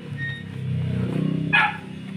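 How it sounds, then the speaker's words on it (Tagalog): A pet dog following its owner outdoors on a morning in the Philippines gives one short, sharp bark, close by, over a low steady rumble of background noise. "So ayan po ang aking aso"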